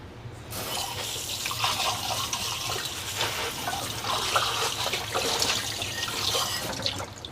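A container is rinsed under a running kitchen tap: a steady splashing stream of water hits the vessel, loud and close, with shifting gurgles as it fills and drains, and no one talking.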